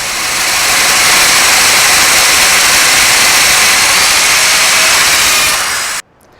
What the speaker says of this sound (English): Here in a piece of clear acrylic, you can see the bit spins and oscillates to form the mortise.